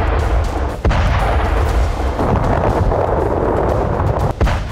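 Russian Kinzhal missile strike explosions in Kyiv, Ukraine: a loud, continuous roaring rumble punctuated by two sharp booms, one early and one near the end.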